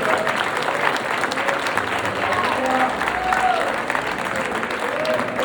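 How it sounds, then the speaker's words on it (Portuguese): A church congregation applauding in praise, sustained dense clapping across the room with voices mixed in underneath. "Você pode aplaudir o Senhor."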